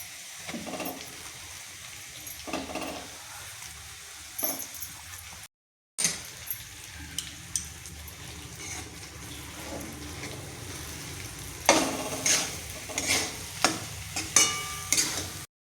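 Ground chana dal is stirred and fried in a pan with turmeric, making soft, faint scraping strokes over a low sizzle. The stirring grows busier near the end.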